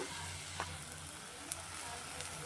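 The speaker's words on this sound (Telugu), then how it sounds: "దీన్ని చక్కగా కలుపుకొని ఆల్రెడీ హీట్ అయి ఉన్న దాంట్లోనే ఇవన్నీ వేగుతాయండి." Spices such as asafoetida and turmeric frying in already hot oil in a pan, a steady close sizzle throughout with a few faint clinks.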